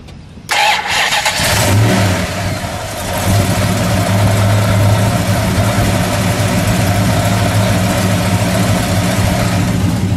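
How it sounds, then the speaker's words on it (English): A 426 Max Wedge V8 in a 1963 Plymouth Savoy cranks and fires up, then settles into a loud, steady, rumbling idle that continues close by. "Let me listen to that idle."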